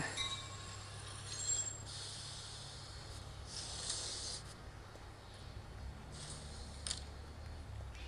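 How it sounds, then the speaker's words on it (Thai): A video game train in Avatar World arrives with hissing and squealing wheels over a steady low rumble, with bursts of brake hiss. "รถไฟมา"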